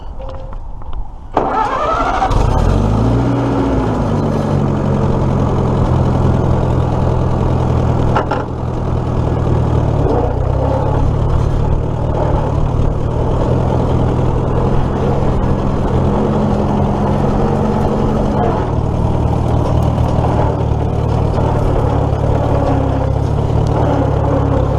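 A car engine starts with a brief whining crank, then settles into a steady, loud idle that hums on for the rest of the stretch, with a slight dip partway through and no talking.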